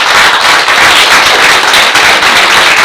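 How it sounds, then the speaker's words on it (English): Audience at a school board meeting applauding the Lady Wildcats team, a loud, dense, continuous wash of clapping from many hands close by. "let's give you a round of applause as well"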